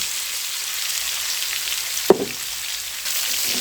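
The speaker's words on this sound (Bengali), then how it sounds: "এই দেখো, আলুর মধ্যে দিয়ে আমি এখন মশলাটা কষিয়ে নেব।" Continuous hiss and crackle of spices frying with potatoes in oil, with one sharp clink of a utensil partway through.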